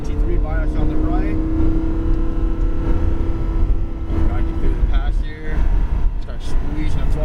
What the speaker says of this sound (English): Squeezing the throttle, full throttle, all the way to the orange cones.